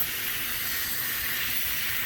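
A Marolex Axel 2000 foaming sprayer fitted with a white nozzle sprays Turtle Wax wheel and tire cleaner in a steady, close airy hiss that runs unbroken throughout.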